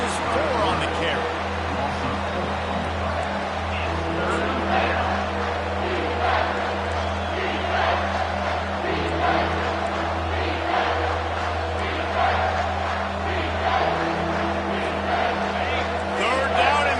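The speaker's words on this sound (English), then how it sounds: "this crowd is tearing the lid off this place." A football stadium crowd on third down roars in a sustained, dense wall of noise under a continuous commentator's voice speaking over it.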